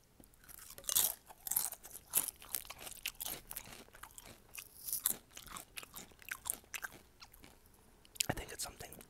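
Nacho chips crunched and chewed up close in a mukbang-style ASMR setting, with sharp, irregular bites and crackling munches repeating throughout, quiet and intimate with no talking.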